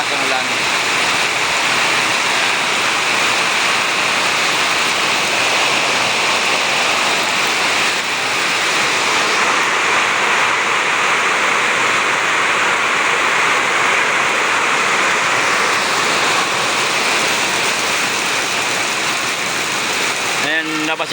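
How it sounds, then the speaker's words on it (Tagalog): Sudden heavy downpour of rain, a loud, dense, unbroken roar of pouring water that stays steady throughout with no pauses. "Ang lakas ng ulan, biglang buhos."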